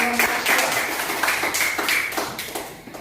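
Applause for the last presenting group in a classroom: a steady patter of many hands clapping together, fairly close and continuous, with a few sharper individual claps mixed in.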